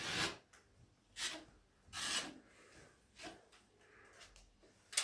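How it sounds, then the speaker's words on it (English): Ceiling crack filler being sanded by hand, a series of about five raspy rubbing strokes spaced roughly a second apart, close and fairly quiet with no speech. "So we're gonna sand this down, and then we're gonna fill it again."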